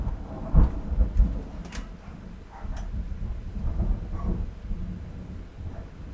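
Rolling thunder rumbles low over steady rain outside, with a few heavier booms near the start and a softer wash of rain continuing behind.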